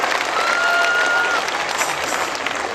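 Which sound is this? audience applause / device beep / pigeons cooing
audience applause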